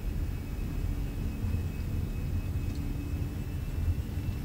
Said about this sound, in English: we're rolling down the runway